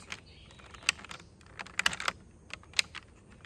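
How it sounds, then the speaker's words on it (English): Sharp plastic clicks from a SIMPLKOMB honey frame being snapped into place, several distinct snaps spaced irregularly over a few seconds, close and fairly loud against a quiet background. "You'll hear it click, click, click, click 8 times."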